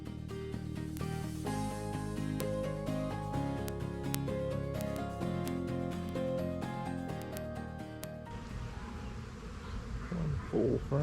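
Honeybees swarming around a heavy, full food frame being moved out of a hive; a dense, close, continuous droning buzz with shifting pitch that holds for several seconds.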